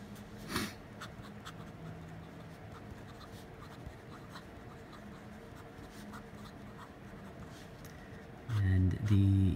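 A Graf von Faber-Castell Intuition Platino fountain pen scratches softly across paper in steady, faint strokes, close to the microphone. A brief louder handling noise comes at the end.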